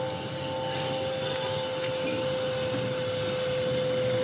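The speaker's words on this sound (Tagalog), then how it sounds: "Yan, nag-vacuum pa." A vacuum cleaner cleaning a Toyota Vios at a car wash, a steady close whirring drone with a high whine, running continuously without pause.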